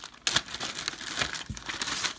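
A plastic zipper bag holding an owner's manual, packed with a hot wire Styrofoam cutter, crinkles and rustles up close in bursts of sharp crackling with no talk over it.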